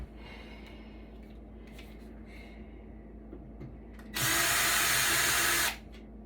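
A power screwdriver or drill backs out a screw from the rear panel of an audio server, a loud whine of about a second and a half after quiet handling noises and breathing.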